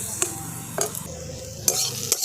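Pointed gourd fries in a pan, giving a steady close sizzle broken by several sharp scraping stir strokes, with no talking.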